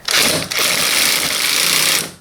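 A 10mm bolt holding the air conditioning pipe on a 2006 Nissan Serena is spun loose during engine mount work, giving a loud, steady, close-up whirring rattle for about two seconds that stops abruptly.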